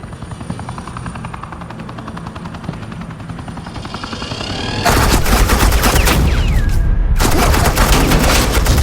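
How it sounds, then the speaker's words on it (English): Gunfire laying down suppressing fire in the Batman: The Enemy Within game, loud dense bursts over a whirring helicopter-like drone, jumping to a continuous heavy barrage partway through with a brief gap near the end. "suppressing fire"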